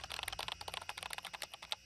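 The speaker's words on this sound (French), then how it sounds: "L'attaquant peut aussi suivre mot à mot tout ce que la victime tape sur son clavier" Rapid typing on a computer keyboard, a steady stream of close, crisp key clicks in an irregular rhythm, alone with no voices.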